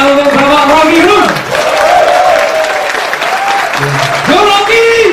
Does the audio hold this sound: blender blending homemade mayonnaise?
no